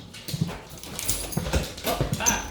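A beagle moving about indoors near a dinner table, with short soft vocal sounds and scuffling in a brief, fairly quiet burst.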